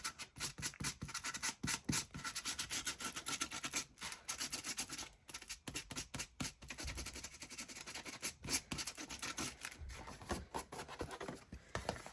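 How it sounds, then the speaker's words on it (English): Small handheld sander rubbing along the top edge of craft packaging, a continuous close scratchy rasp with short pauses and varying strokes, fairly quiet overall. "along the top, because I haven't used my sander for what feels like ages."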